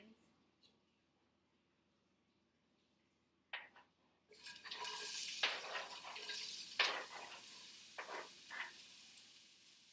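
Garlic and onions dropped into a cooled pan burst into loud, close sizzling with scraping stir strokes, after a quiet start broken by a few small clicks.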